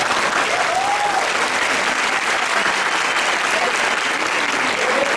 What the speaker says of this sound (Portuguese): Eu puxei as palmas